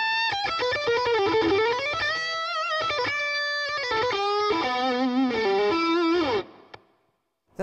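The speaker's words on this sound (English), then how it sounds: "it's called the Zeo Boost. It's just a line boost" A Source Audio Zeo Boost line boost pedal drives an electric guitar through a distorted, effects-heavy tone, with sustained bent notes and chords ringing loudly for about six seconds before cutting off into near silence.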